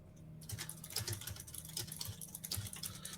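Computer keyboard typing in a quiet room: irregular soft clicks and taps of keys, faint and close, with no voices.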